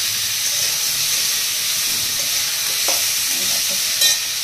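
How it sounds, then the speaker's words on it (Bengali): Mixed vegetables including drumstick pieces fry in hot oil seasoned with radhuni, fenugreek seeds, a dried red chilli and a bay leaf for sukto, giving a continuous close sizzle and hiss with a short stirring scrape near the end. "সবজিগুলো এখন একটু ফ্রাই করব।"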